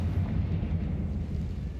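A blasting spell explosion in Hogwarts Legacy: a sustained, loud, low rumbling blast that fills the whole moment without pause, with no voices over it.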